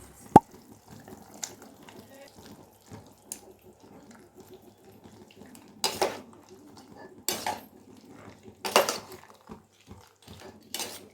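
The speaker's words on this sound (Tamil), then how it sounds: "இப்போ இந்த ஸ்டேஜில் இந்த மாங்காவையும் சேர்த்துடலாம். சேர்த்துட்டு இது போல் கலந்து விட்டுறலாம்." Mango and ground paste get stirred into curry in a pot, with a few scattered scrapes and clanks of a ladle against the metal between quiet stretches, close by.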